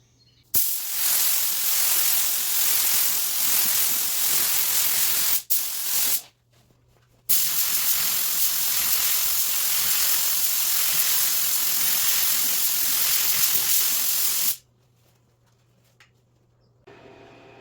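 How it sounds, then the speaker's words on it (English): A paint spray gun hisses loudly in long continuous bursts, spraying silver ice coats over black, pausing briefly twice before a final stop, steady broadband spray noise close by. "We'll go ahead and spray a few more coats"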